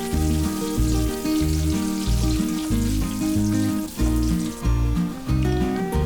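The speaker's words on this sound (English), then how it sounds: "in a hot pan, add oil, add half cup cashew nuts and fry it until crispy and golden brown" Half a cup of cashew nuts fries in hot oil in a pan, giving a steady close sizzle and crackle, though a loud rhythmic backing track plays over most of it.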